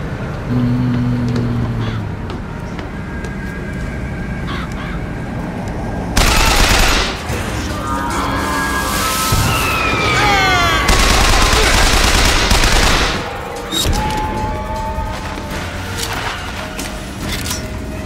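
Machine gun fire and combat in BioShock Infinite, with dense bursts of shooting and explosive impacts during a loud firefight, some stretches louder than others, over steady game sound.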